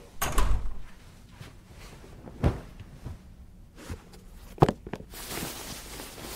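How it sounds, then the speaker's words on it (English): A door shuts in a video game sound effect: one sharp knock-like thud, then a second firm clunk a couple of seconds later, with quiet shuffling between them and a soft hiss at the end. "I went to the adjacent room and shut the door."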